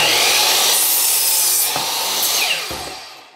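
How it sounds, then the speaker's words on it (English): A miter saw cuts straight across a piece of wood, making a loud close buzzing rasp that fades away, followed by a couple of short knocks as the blade and workpiece settle. "Now I want to cut across at a 90 degree angle. I'm going to be using my miter saw."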